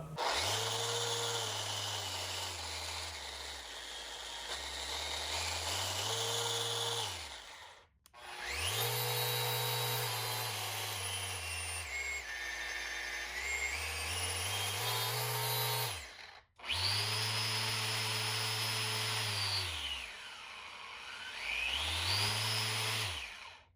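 A random orbital sander in direct drive mode whirs, ramping its speed up and down repeatedly across three runs, each separated by a brief stop, its motor pitch rising and falling.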